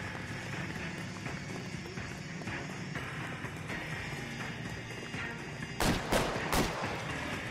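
Gunshots from the video game L.A. Noire, with three sharp, loud reports in quick succession near the end, standing out above a steady bed of game sound.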